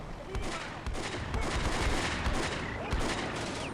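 Soldiers exchange rapid gunfire in the Combat Mission: Beyond Overlord WWII strategy game at La Fiere, with dense overlapping rifle and machine-gun bursts crackling steadily throughout.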